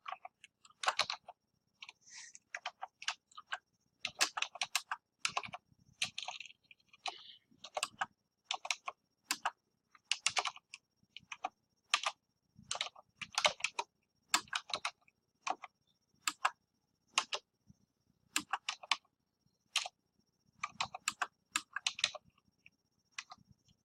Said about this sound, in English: So let me type a little bit and then I'll talk.